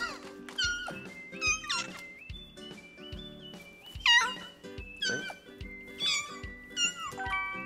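Cat meows from a VR cat video game, a series of about nine distinct, fairly loud meows at irregular intervals over a low background hum, with no talking.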